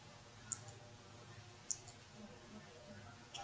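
Two light, sharp keypresses on a computer keyboard, one of them the Enter key, click quietly and close by against a faint background hum, with no talking.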